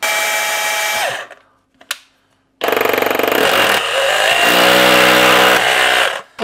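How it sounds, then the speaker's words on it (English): Close, loud hammer drill boring into a wall in short bursts, spinning up and winding down with a pause between, the pulsing hammer action rattling over the motor whine. "Always drill the first few with the hammer."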